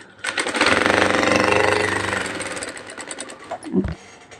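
A sewing machine runs fast and steady for about three and a half seconds, stitching while the bobbin is being fitted and tested, then ends with a couple of brief mechanical clunks; it is loud and close, with no talking.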